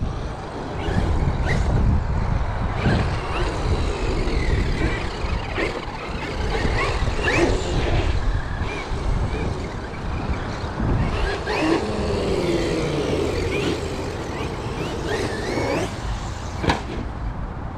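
A Traxxas XRT radio-controlled truck slides and bounces as it drives outdoors, with a steady loud electric motor whine and rough rumbling tire and chassis noise that continue without a break.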